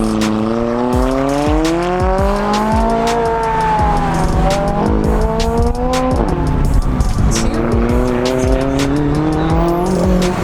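A McLaren 570S on an autocross course, its engine rising and falling through gear changes while tires squeal repeatedly through tight turns, loud and close throughout, with a voice speaking briefly over it.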